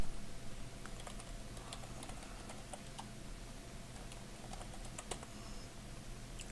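A computer keyboard clatters with quick, irregular keystrokes as a Facebook URL is typed in, close and fairly quiet over a faint steady background hum.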